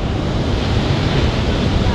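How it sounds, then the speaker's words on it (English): Lower Düden waterfall in Antalya pours straight into the sea, producing a loud, steady, broadband roar of crashing water and surf that fills the whole stretch with no pauses, with wind buffeting the microphone. "lower Duden waterfalls that you can see behind us"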